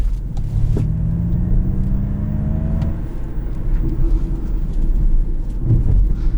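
A 2021 Ford Mustang Mach-E Select electric car accelerates hard, its motor whine rising in pitch for a few seconds over loud road and tyre rumble from inside the cabin.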